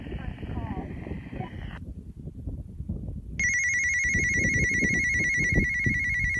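An electronic phone ringtone from an incoming call that is not going through chimes steadily over a background of people talking and general noise.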